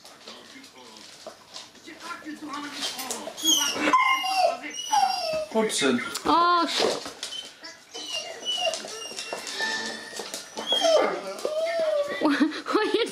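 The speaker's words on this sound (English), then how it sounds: "Like synchronized puppies." Puppies whimper and yip in high, wavering cries, several at once and close by, while a person talks softly over them.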